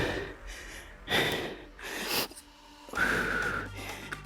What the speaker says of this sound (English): Continue to breathe here.